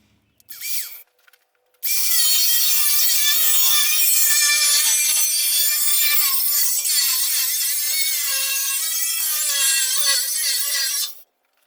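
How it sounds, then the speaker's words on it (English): A power saw cuts through a sheet metal piece trimmed from a 1949 Willys pickup panel, a loud, steady high-pitched whine running continuously for about ten seconds after a brief start-up burst. "All right, got this piece cut off."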